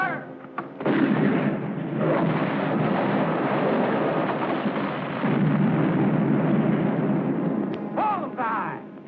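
Cannon fire in a 1951 film, a long rolling boom that swells and lingers for several seconds, with a brief sharp burst near the end.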